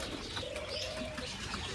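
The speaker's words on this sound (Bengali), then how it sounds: "এই কবুতর গুলোর আমি এখানে খানা দিতে হয়" Faint, soft cooing of pigeons against a low background hum, a brief murmuring call at a distance.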